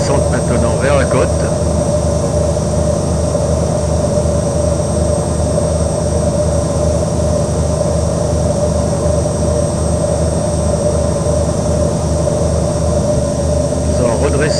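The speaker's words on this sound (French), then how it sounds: "Nous allons redresser un peu le nez de l'avion de façon à lui faire perdre de la vitesse." Small aircraft in flight, descending toward the coast over southern Réunion Island, a steady loud engine drone and propeller hum that fills the whole clip without pause.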